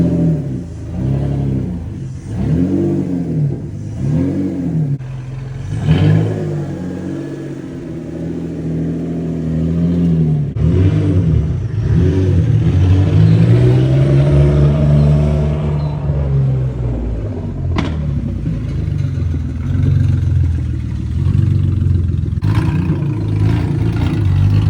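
A BMW E36 drift car fitted with a swapped M54B30 engine drives along a street, its inline-six rising and falling through repeated revs and gear changes, one long pull building to a sustained loud drone, close by.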